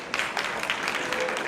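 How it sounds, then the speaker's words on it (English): An audience at a live event applauds the Congresswoman with a short burst of steady clapping, and a voice can be heard faintly under it. "Let's give the Congresswoman another round of applause."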